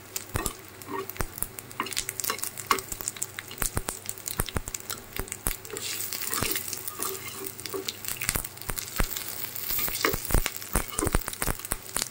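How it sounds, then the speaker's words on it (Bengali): Chilies crackle and sizzle in hot oil, with frequent spatters and the scrape of a utensil stirring the pan, continuous and close. "মরিচগুলো ভাজা হয়ে গেছে,"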